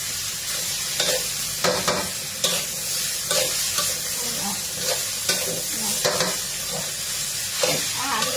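Mackerel frying in a pan on a gas stove, a steady sizzling hiss with repeated scraping and stirring clatters every second or so, close by and continuous.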